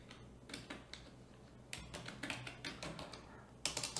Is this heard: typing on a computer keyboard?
yes